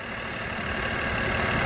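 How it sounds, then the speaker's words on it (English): A 2007 BMW 325i's 3-litre straight-six idles steadily at close range, a continuous even rumble with no other sounds over it. "Has a 3-litre straight-six engine"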